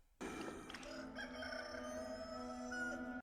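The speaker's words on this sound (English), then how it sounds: "the rooster is crowing" A rooster crows in a scene from the film Nosferatu, one long, loud, drawn-out call that starts abruptly and holds steady until it is cut off, with nobody talking.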